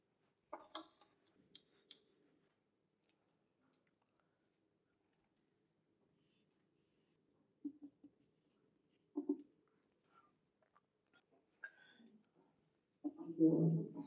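A pen writes out a physics solution in scattered short scratchy strokes separated by long quiet gaps, with a brief voice near the start and a louder rustle at the end.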